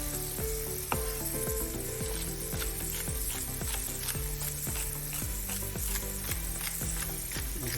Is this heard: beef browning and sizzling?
yes